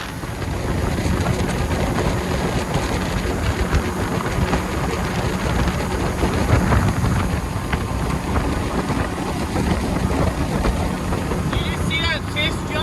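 A bowfishing boat's outboard motor runs steadily on a river at about 25 miles an hour, a constant loud drone mixed with heavy wind buffeting on the microphone.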